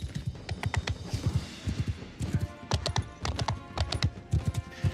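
Rapid clip-clop of horse hooves trotting in a video game, quick irregular thuds close by with a busy, layered rhythm.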